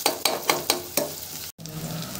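Onion sautés in a pan over a wood-fired stove for dry mutton, with a close sizzle broken by several rhythmic stirring scrapes and a momentary pause.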